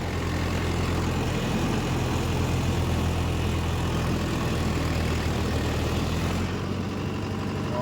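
A Mahindra Yuvo Tech+ 585 tractor drags a rotavator through a field under heavy load, its diesel engine a loud, constant low drone with churning rumble, easing off near the end.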